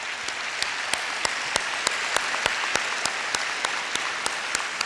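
A large audience at a school district convocation applauds central administration staff, a dense continuous clapping with sharp individual claps popping out near the mic at an even pace.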